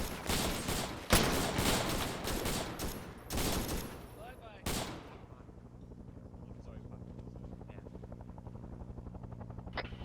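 Arma 3 gunfire crackles in loud, dense bursts over the first five seconds, then gives way to a steady droning engine hum with faint distant pops.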